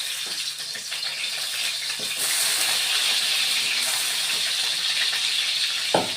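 Potatoes sizzling in hot oil for a Bengali jute leaf (pat shak) dish, a steady broadband frying hiss that swells a little louder after a couple of seconds, with a faint clink near the end.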